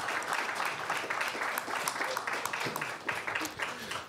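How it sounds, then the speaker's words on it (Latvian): A debate audience in Latvia claps steadily for several seconds, the clapping dense and fairly close, with some voices mixed in. "Aplausi, aplausi, aplausi."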